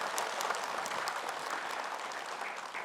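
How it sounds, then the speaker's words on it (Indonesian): Studio audience of women applauding on an Indonesian religious TV program, a dense, even patter of many hands clapping at moderate volume, continuous for a few seconds with no voices. "tepuk tangan buat ibu-ibu"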